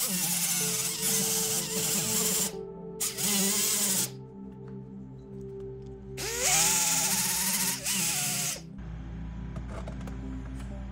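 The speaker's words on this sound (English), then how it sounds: "What I need to do is match drill this." A power drill whines through metal in two long bursts separated by brief pauses, match-drilling a fuel valve part on a RANS S-21 aircraft, close and loud, its pitch dipping under load.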